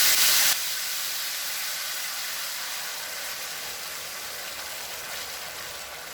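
Onion, tomato and green chili paste sizzling in a hot pot, starting with a sharp burst of hiss and then settling into a steady, loud, continuous frying hiss with no voices.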